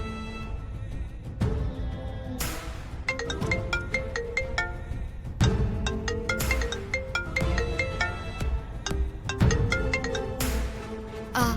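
A phone ringtone plays a bright, repeating melodic phrase over and over for several seconds, loud and steady, with no voices.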